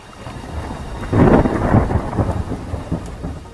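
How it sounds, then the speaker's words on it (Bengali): Steady rain pours down with a low rumble of thunder swelling partway through, no voices. "এই বৃষ্টি আর থামবে না গো"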